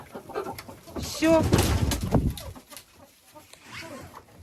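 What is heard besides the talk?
hens clucking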